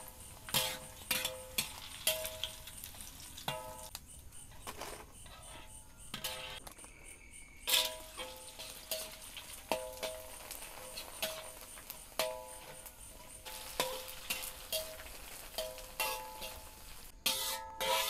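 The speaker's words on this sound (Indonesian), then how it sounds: "iki karek goreng krupuk sik lur" Krupuk crackers fry in a pan of oil, giving a steady crackling sizzle with sharp bursts of popping that recur every second or two, close and moderately loud, with no voices.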